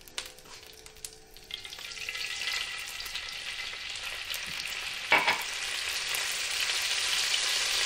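Steady sizzling of lemon frying in hot oil in a pan with cod fillets, building slightly louder with a brief sharp crackle burst partway, no talking.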